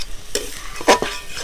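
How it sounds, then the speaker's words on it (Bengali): A spatula stir-fries boiled masoor lentils with spices and banana flower in a hot pan, a few quick scraping strokes over a light sizzle, close and without voices. "এবার দিয়ে দেব সিদ্ধ করে রাখা ডাল। এটাকে একটু কষিয়ে নেব মশলার সাথে।"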